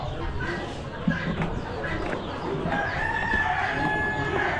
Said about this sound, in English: Big boy roosters.